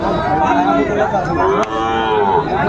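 Cattle lowing and mooing at a busy livestock market in Chattogram, Bangladesh, where Sahiwal bulls and calves are sold: several overlapping moos rise over steady crowd chatter, close and loud throughout.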